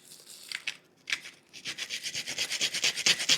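A whole nutmeg, worn down to a small nub, is rubbed across a small antique grater, giving rhythmic rasping strokes that start hesitantly and settle into a steady, close back-and-forth scrape.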